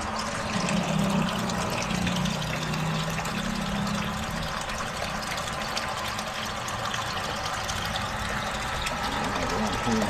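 Water pours steadily in a continuous rushing stream, with a low hum underneath and faint voices nearby.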